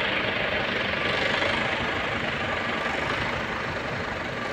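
A crane engine runs steadily at a construction site with a pipe rack in Saudi Arabia as the crane lowers, a loud, even, low rumble with no break and no voices.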